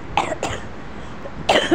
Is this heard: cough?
yes